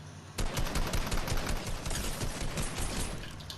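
Rapid automatic gunfire in Fortnite, a sudden dense burst of rattling shots that starts abruptly and continues steadily for a few seconds, loud and close with no talking over it.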